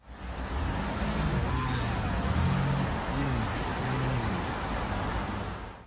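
City cars pass close by in a loud, continuous traffic roar, with engine tones rising and falling as vehicles go past.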